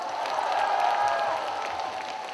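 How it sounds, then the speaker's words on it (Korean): Audience applause at a women's singing class concert in Ulsan, a steady wash of clapping from a crowd, fairly loud and sustained throughout with no voices over it. "다 같이 박수 한번 쳐주세요."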